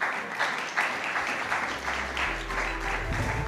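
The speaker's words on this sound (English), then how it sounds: "I request you all for an applause for a warm welcome for Mr. Vachani." Audience applause welcoming the chairman onto the stage at an investor conference, a steady wash of clapping from a crowd throughout, with a low hum rising toward the end.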